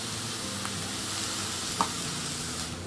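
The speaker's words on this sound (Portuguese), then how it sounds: "Vamos fritar um pouquinho a cebola. Já vou acrescentar aqui uma colher de manteiga." Onion frying with a spoonful of butter in a pan, a steady bright sizzle with a faint scrape or two, close and without speech.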